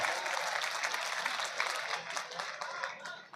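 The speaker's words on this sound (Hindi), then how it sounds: "एक बार तालियां बजा के ज़रा से इजाज़त दीजिए" Audience clapping at an Urdu poetry mushaira held at a medical college in Bihar, a bright, sustained patter of many hands that holds steady for a few seconds with no speech on top.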